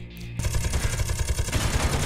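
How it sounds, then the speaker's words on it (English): Rapid automatic gunfire from a Gatling cannon in the Space Engineers game, a dense continuous burst of fast shots starting after a brief lead-in and sustained loudly to the end, with no talk. "The Gatling cannon really doesn't do anything to this ship"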